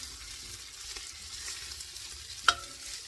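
A spoon scrapes browned bits off the bottom of a pot of beef and barley soup with garlic and onion, a faint soft sizzle and stirring with one sharp metallic clink near the end.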